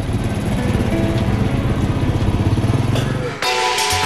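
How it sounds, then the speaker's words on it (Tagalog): Motorcycle engine running close by, a loud buzzing idle with rapid pulsing throb, then a sharp shift in tone near the end. "nakakapagpatakbo pa rin daw siya ng motorsiklo"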